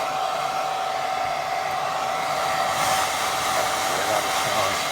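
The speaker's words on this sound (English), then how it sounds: "hairdryer on job quick." Hair dryer running on low heat to dry wet watercolour paint, a steady close whirring blow with a constant motor hum holding level throughout, no voices.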